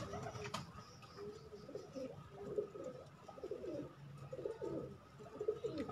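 A black pigeon kept at a home loft coos in repeated low, throaty bursts, moderately close, over a steady background hum with no talking.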